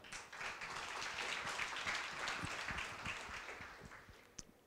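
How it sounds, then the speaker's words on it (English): Audience applause fills a hall at the 2023 World Organic Youth Summit, a steady broadband wash of many hands clapping at moderate volume for the full stretch, with no speech over it. "Let us all give a round of applause for Helena."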